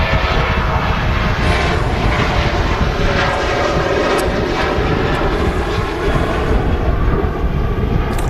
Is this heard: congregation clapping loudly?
no